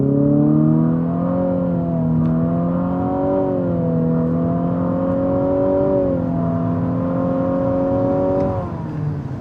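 A 2023 Infiniti QX50 Sport SUV accelerates hard from 0 to 60 in about 8.7 seconds, its rising drone stepping up through several gear changes, loud and close with no talk.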